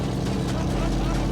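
A rebuilt Audi S4 engine idles with a steady, somewhat uneven rumble and a hiss of noise, running roughly, heard up close for a brief moment.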